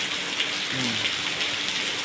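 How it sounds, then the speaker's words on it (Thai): Rain pours in a steady, fairly loud hiss that stays even throughout, with a brief low creak partway through. "ความลำบากตอนฝนตก"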